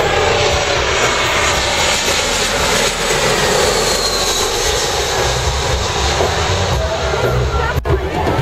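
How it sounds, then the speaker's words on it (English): Airplane on approach over the crowded beach beside Princess Juliana International Airport on St. Maarten, a steady loud engine roar sustained throughout with faint crowd babble underneath. "Il y a un avion qui s'en vient."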